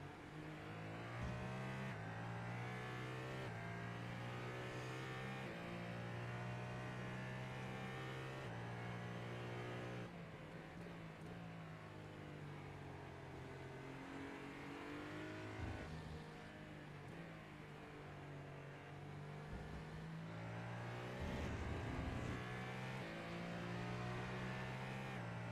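An LMP2 prototype race car in iRacing's Sebring 12 Hours endurance race drones along at steady high revs, its engine note holding loud and continuous with gear changes and pitch shifts, no voices.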